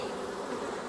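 Honey bees buzzing around an opened hive during a late-season brood chamber inspection, a dense steady drone close up, with no voices.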